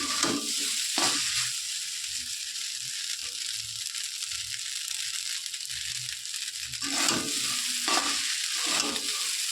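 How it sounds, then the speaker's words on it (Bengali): Pasta is being fried and stirred in a pan. A continuous close sizzle fills the whole stretch, and repeated scraping and knocking strokes from the spoon rise above it at irregular intervals. No one talks. "এখন আর একটু ভাজতে হবে"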